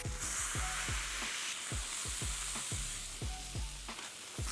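Beef smash patties topped with sliced jalapeños sizzle loudly on a hot griddle, a steady bright hiss broken by a series of sharp, evenly spaced scraping strikes from a spatula pressing and working the meat.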